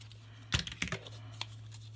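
Adhesive tape pulled off a roll while assembling a Graphic 45 mini suitcase pop-up paper craft book: a short, crisp ripping burst followed by a couple of smaller tearing rasps, close and fairly quiet over a steady low hum.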